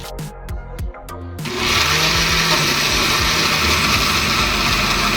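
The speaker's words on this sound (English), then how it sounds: "So I'm gonna throw some of this in the blender, blend up my seasoning." Kitchen blender whirring through fresh pimento and other seasoning, starting after a few clattering knocks, then running loud and steady with a continuous motor drone.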